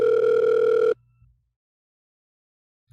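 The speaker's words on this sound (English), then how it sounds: "The dial tone rings on faintly." Telephone ringback tone heard in a Doki Doki Literature Club mod video game, one loud steady electronic tone lasting about a second, then silence with a faint low hum returning at the end.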